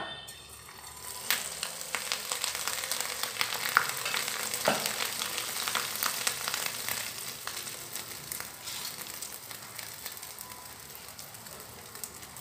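Sweet appam batter, a Tamil neyyappam, fries in hot oil with a steady, close sizzle and bubbling crackle that carries on evenly throughout, with a few faint clicks and no voices.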